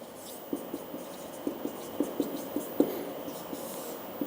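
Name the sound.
writing on a board during a maths lecture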